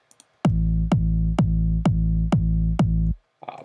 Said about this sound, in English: So now you've got a kick that sounds like this.